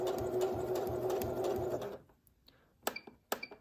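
A Pfaff Passport sewing machine runs its start-up adjustment, giving a steady mechanical whir for about two seconds that stops, followed by a few sharp clicks and taps.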